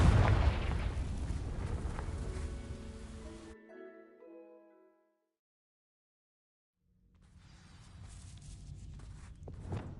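Fiery explosion from the Confringo spell in Hogwarts Legacy, a loud, dense burst that rumbles and crackles, then fades into a tonal shimmer before silence. A second crackling burst builds afterward.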